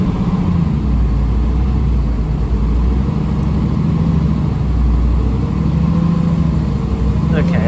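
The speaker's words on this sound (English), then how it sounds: "I'm going to give it some fuel." Truck engine heard from inside the cab while given fuel during an air brake check: a loud, close, steady low rumble that holds evenly throughout without pause.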